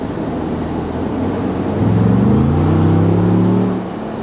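A 2022 Ford Bronco accelerates on the road, its engine rising in a smooth climbing whir for a couple of seconds before easing off, heard from inside the vehicle.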